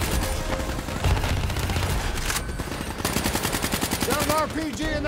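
Rapid gunfire from Call of Duty Black Ops 3, dense automatic bursts firing continuously and loud throughout, with game effects layered over it and brief vocal sounds near the end.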